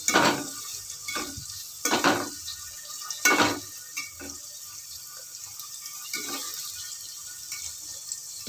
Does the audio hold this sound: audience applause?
no